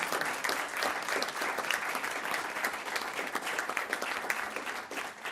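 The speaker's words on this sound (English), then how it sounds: "Round of applause for him." Audience at a school district board meeting applauding a student, a dense, continuous wash of clapping from a crowd, steady and somewhat distant for several seconds.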